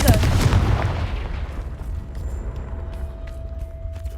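A Confringo fire spell blast in the Hogwarts Legacy video game goes off as one loud, booming burst that decays into a rumbling, crackling tail, followed by faint scattered clicks.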